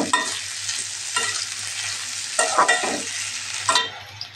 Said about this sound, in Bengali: এখন এটা কিছুক্ষণ ধরে ভেজে নেব, একটু লাল লাল করে ভেজে নেব